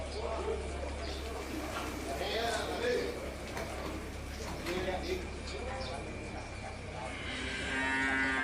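Bali cattle low and moo at a large animal market. Several calls rise over a busy background of people talking and faint hoof movement.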